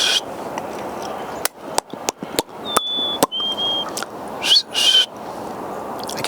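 An attempted whistle outdoors in cold weather: a few thin, wavering tones break out briefly between sharp clicks and gusty bursts of breath, faint and uneven rather than a steady tune.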